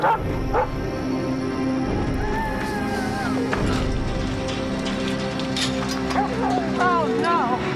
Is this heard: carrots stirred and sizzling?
no